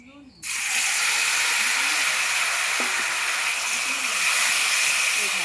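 Seasoned bottle gourd, tossed with curry leaves, drops into a hot pan and bursts into a loud, steady sizzle that holds evenly for several seconds, with faint voices murmuring underneath.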